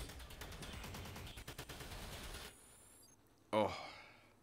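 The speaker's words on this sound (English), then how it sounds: "So many explosions." Gunfire and explosions from the Destiny 2 Exodus Siege mission: rapid repeated shots fill the first two and a half seconds, then a sharp, loud blast that rings out, with a voice heard briefly.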